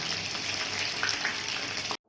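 Chicken pieces frying in hot oil for a homemade chicken chilli sauce give a dense, steady sizzle close by, with faint stirring clicks. The sizzle runs unbroken, then cuts off abruptly near the end.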